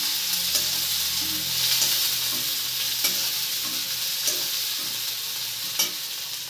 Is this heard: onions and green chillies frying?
yes